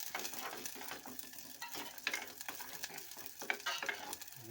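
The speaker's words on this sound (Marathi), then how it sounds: "ते तेल ओतला आता चांगला हलून घ्यायचा" Onions being stirred in hot oil in a pan while preparing a rustic village-style crab curry, giving a steady crackling sizzle with scraping stirs throughout, close and moderately loud with no talking.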